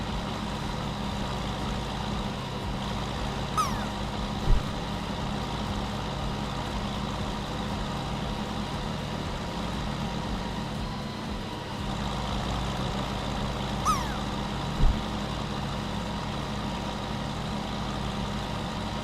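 A tractor mowing grass in Farming Simulator 25 drones on with a steady low engine hum and faint mechanical whine, continuous and unchanging, with a couple of soft clicks over the top.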